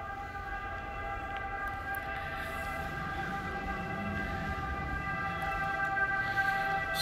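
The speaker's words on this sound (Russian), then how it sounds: "Скорую слышно везде." Ambulance siren wailing outside an apartment in Sanremo, a steady sustained tonal wail over a dull background hum, moderately distant and heard without speech.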